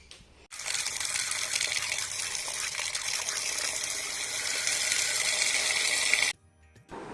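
Clams from a stream and backwater are washed in water, heard as a continuous close gush and splash of running water that starts abruptly, holds steady for several seconds, then cuts off.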